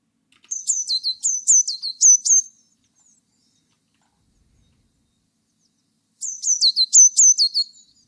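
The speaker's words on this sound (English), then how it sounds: "I don't know what kind of bird that was." Small bird chirps in two quick bursts of rapid, high-pitched tweets, one near the start and one near the end, with silence between them. The sounds are clean, close and isolated, like a recorded foley effect.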